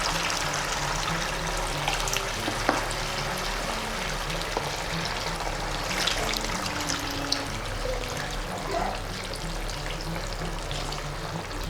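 Water trickles and pours into a pot of pepper rasam on the stove, a steady soft stream over a constant low sizzling hiss, heard up close with no talking.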